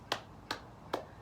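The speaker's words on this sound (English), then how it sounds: "Let's clap our hands." Three sharp hand claps from a children's movement activity ring out at an even, unhurried pace, crisp and close, with no voices.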